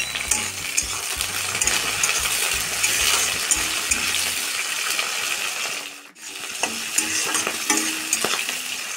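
Chopped onions and vegetables with spinach fry in a pan under a loud, dense sizzle, with repeated metallic spatula scrapes and clinks as they are stirred and a short lull partway through.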